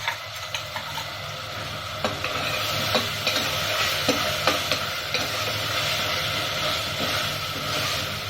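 Ginger, garlic and chili paste hit a hot pan for coconut milk rice, giving a steady broad sizzle with scattered scraping and clinking stir strokes throughout.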